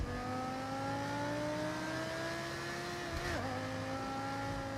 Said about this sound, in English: Sounds like an M5 V10.